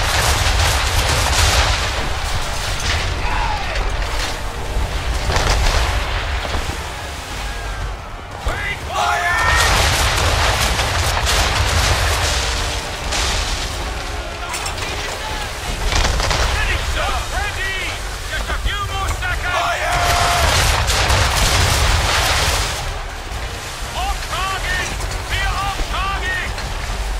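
Ship cannons boom again and again during a naval battle in the Assassin's Creed III video game, heavy blasts rolling over a roaring battle din with voices shouting.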